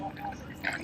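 Brewed coffee poured over a full tumbler of ice, a short liquid splash and trickle with a brief brighter burst near the end, close and moderately loud amid light background noise.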